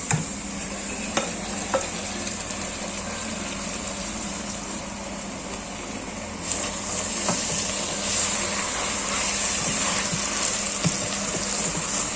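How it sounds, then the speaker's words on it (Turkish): Grated carrot, zucchini and potato sauté in a pan with a steady sizzle and frying crackle while being stirred, with occasional utensil scrapes and a brighter surge of sizzling partway through. "bir adet rendelenmiş havuç, bir adet rendelenmiş kabak ve bir adet rendelenmiş patates ekliyoruz arkadaşlar ve kavuruyoruz"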